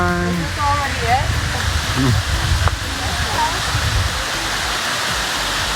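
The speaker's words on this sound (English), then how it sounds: "We might be already at the waterfall. Do you hear it?" DeSoto Falls, a waterfall in Alabama, gives a steady broadband rush of falling water that fills the scene throughout, with people talking over it.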